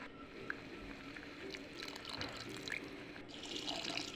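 Water pours into a pot of vegetable sambar flavoured with tamarind and chilli powder, a soft continuous trickle and splash close by with kitchen noise, and no talking.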